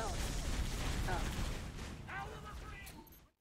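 Turret gunfire in Halo: Reach, a dense, loud burst of rapid shots and rumbling impacts that fades toward the end, with voices talking over the battle.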